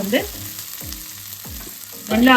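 Onions frying in a pan for paneer butter masala, a soft steady sizzle with a few scraping stir strokes, close and moderately loud, ending in a brief swell of louder sound.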